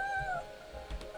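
A cartoonish cat in the cozy cat-café game Calico gives a short, close meow with a slightly rising, tonal voice, heard alone over soft game ambience.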